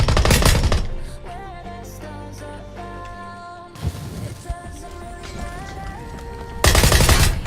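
Bursts of automatic gunfire from the PUBG video game open and close the passage, loud and rapid, with a stretch of tonal music and scattered shots in between.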